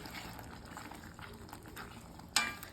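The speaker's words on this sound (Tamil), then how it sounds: "இப்போது நல்லா மிக்ஸ் பண்ணிடலாம்" Potato peas masala being stirred in a pan, soft wet scraping and bubbling with a sharp clink of the spoon near the end.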